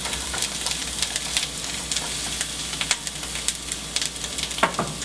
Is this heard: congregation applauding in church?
no